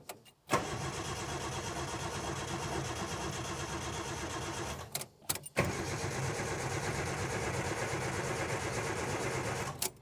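A Suzuki Samurai engine starts with the key and runs at a rough, loud idle, cuts out briefly midway, then fires again and keeps running steadily.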